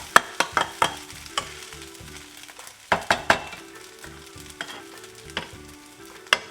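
Malaysian Nasi Goreng Kampung fried rice is stirred in a frying pan. A steady sizzle runs under repeated sharp scrapes and clinks of the utensil against the pan, arriving in quick irregular bursts.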